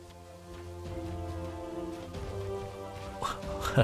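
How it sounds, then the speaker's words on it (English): Rain storm in the Kingdoms and Castles video game, a soft hiss of rainfall under a low sustained musical drone, building slightly toward the end. "here comes that rain I was talking about"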